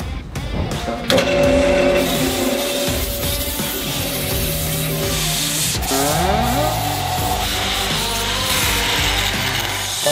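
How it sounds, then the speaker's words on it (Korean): Continuous abrasive rubbing and grinding as sandpaper works a steel ball, with rhythmic scraping strokes, close and loud, no speech. "지금 사포질을 거의 지금 1시간 가까이 했습니다"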